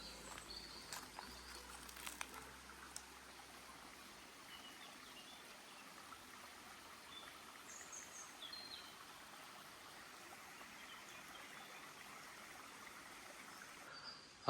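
A small mountain stream trickles steadily in the forest, a faint continuous wash of running water with occasional soft birdsong and no voices.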